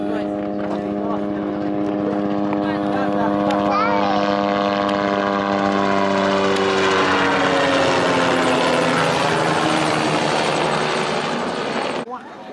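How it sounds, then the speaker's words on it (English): A helicopter's loud, steady rotor thrum dominates, passing close overhead near Tintagel Castle on the North Cornish coast, with its pitch shifting as it moves; voices can be heard faintly beneath. "there's a helicopter flying right overhead."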